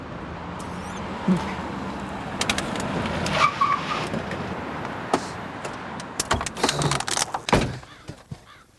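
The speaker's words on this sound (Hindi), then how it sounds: "और रोक नहीं सकते, गाड़ी रोको।" A car rolls to a halt inside a crime drama scene, with steady road and engine rumble, a few soft thumps and clicks, and a sharper knock near the end as the noise dies away.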